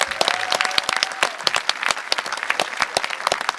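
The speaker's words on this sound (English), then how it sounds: "let's give one last round of applause for Team Origin" An audience at a TIFF panel gives Team Origin a warm round of applause, many individual claps crackling close and distinct in a lively, continuous burst.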